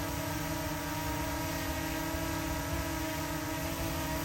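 Heard from behind, a DJI Mini 2 drone with Master Airscrew Stealth propellers produces a constant, even propeller whine with a soft hum beneath it, unbroken and alone.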